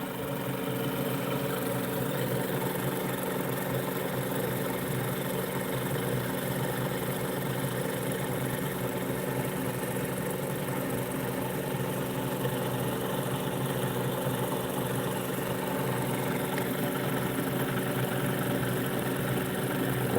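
A pulse motor with a dual 90° drive and magnet rotor spins at speed, giving a steady, unbroken whirring hum with layered tonal lines, close and constant without voices.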